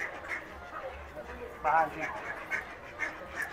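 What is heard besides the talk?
ducks quacking while being fed at a theme park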